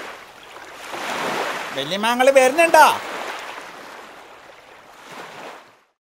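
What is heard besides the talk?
sea waves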